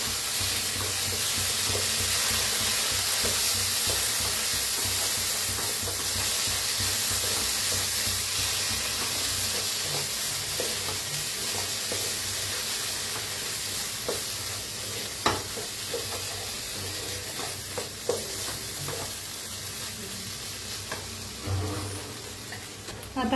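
Turmeric and spices sizzle in a hot pan while being stirred for a green-masala egg curry, a constant loud frying hiss with occasional clicks and scrapes from the spoon against the pan.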